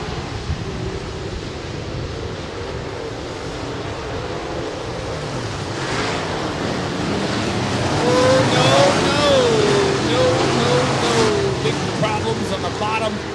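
IMCA late model race cars running double file around a dirt track, a broad distant engine roar with rising and falling revs that swells toward the end, under a public-address announcer's voice.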